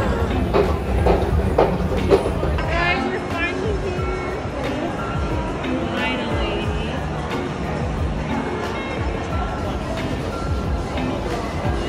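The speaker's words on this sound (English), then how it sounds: "Because we're gonna ride the tube." A London Underground train rumbles steadily along with rhythmic rail clatter and squeals, while people talk close by and a crowd murmurs in the background.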